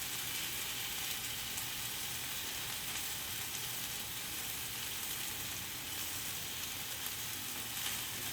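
Garlic bread sizzles steadily on a hot griddle, a constant bright crackling hiss with no pauses, close and fairly loud.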